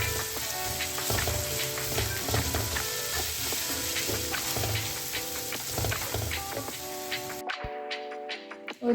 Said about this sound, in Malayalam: നല്ലോണം ഇളക്കിയെടുക്കാം.